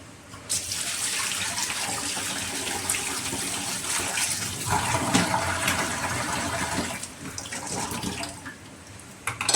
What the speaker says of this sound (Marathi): थोडंसं गरम आहे, थोडं पाणी घेते याच्यामध्ये.